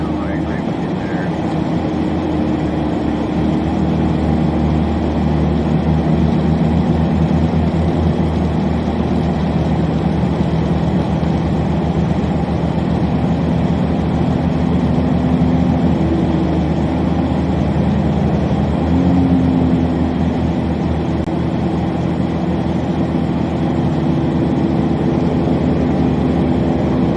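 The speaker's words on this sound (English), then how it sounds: "That guy might be running his engine brake" A truck engine rumbling in slow snowstorm traffic, a deep steady drone that continues unbroken, with engine-brake chatter folded into the low roar and people talking quietly over it.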